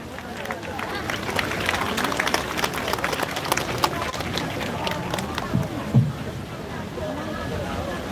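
An audience at a retro festival in Grójec claps to welcome a town choir onto the stage, producing a dense, sustained round of applause with crowd murmur and a few louder knocks near the end.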